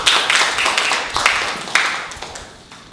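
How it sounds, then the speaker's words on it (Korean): Audience clapping at a political party lecture event in a district hall in Seongbuk, Seoul, a moderately loud, fairly dense burst of applause that fades out toward the end. "힘찬 박수로 모시겠습니다."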